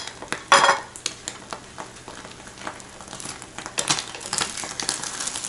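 Rice is tipped into a hot pan for omurice and stirred, giving a crackling sizzle with repeated close scrapes and knocks of a spatula against the pan.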